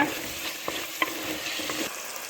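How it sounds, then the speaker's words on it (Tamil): Capsicum and tomato being stir-fried for a mutton head gravy, a steady sizzle broken by a few sharp scrapes and clicks of a spoon against the pan, close and alone. "தக்காளி வதங்கினதும் இந்த கொடமிளகாயும் சேர்த்து நல்லா வதக்கிக்கிங்க"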